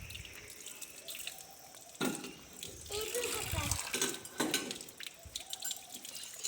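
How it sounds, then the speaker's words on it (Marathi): Water poured and splashing over feet at a foot-washing spot in a temple in Beed, a steady close trickle and spatter with voices talking faintly in the background. "सुरुवातीला आपण पायावर पाणी घेऊ"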